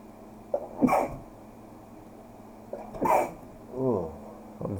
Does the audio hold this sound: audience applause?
no